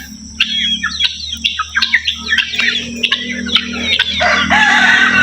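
Native chickens cluck and chirp in busy overlapping bursts, with a rooster-like crow rising near the end, close by over a steady low hum.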